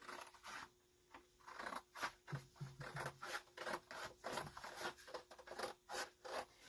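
Scissors cutting a strip of curtain fabric give a run of quick rhythmic snips and rasping slides, each a short burst with brief gaps, close and quiet with no speech.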